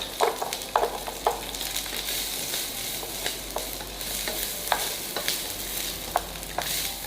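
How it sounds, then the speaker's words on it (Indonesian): Garlic and shallots sauté in a hot pan for a shrimp dish in Worcestershire sauce: a steady sizzle with scattered clicks and scrapes of stirring against the pan, at close range and with no voices. "Biasanya bawang putih harus kita tumis sampai harum dulu, baru memasukkan yang lainnya."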